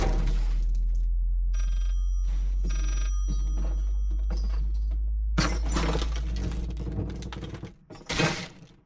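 A telephone rings amid crashing, shattering glass and eerie noise in the horror video game Layers of Fear, loud and cluttered over a constant low rumble, with no voice.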